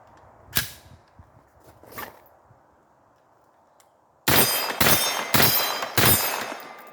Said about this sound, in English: let's try firing a couple rounds and see if this will work